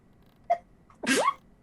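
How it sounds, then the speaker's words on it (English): A single sneeze, close and fairly loud: a short sharp inhale followed by a burst, heard alone without talk. "Oh, I'm gonna sneeze."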